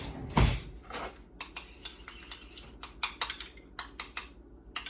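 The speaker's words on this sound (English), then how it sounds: "And then let me stir this up." A utensil stirs a ketchup, brown sugar and mustard mixture in a bowl, a rapid run of clinks and scrapes against the dish after one heavier knock, close and clear, with no talking.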